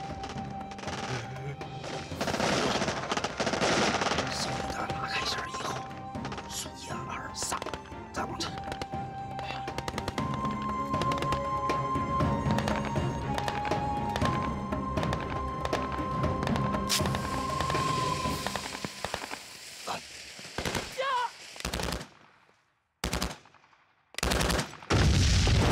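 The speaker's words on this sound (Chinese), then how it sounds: "听枪声，他们好像也有重机枪，而且不止一挺，点射从未停止" Heavy machine gun fire in a wartime battle drama, with sustained bursts, crashes and layered score, then scattered loud shots near the end.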